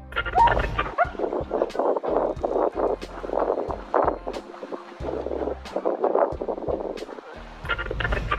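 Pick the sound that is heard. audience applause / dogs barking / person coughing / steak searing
dogs barking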